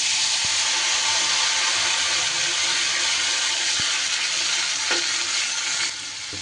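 Spice paste frying in hot oil over a tempering of dried chilli and whole cumin, a loud, dense sizzle and hiss filling the clip, with a few stirring knocks against the pan, no voices.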